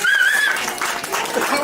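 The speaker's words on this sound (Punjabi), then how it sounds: "ਉਹਦੇ ਵਾਸਤੇ ਵੀ ਭਰੀਆਂ ਤਾੜੀਆਂ" An audience claps at a jewelers' lucky draw event, a brief burst of dense applause with a thin whistle-like tone near the start.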